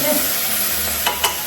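Onions frying in a pan for mutton curry, giving a steady broadband sizzle with a couple of brief stirring clicks near the end and a short spoken word near the start.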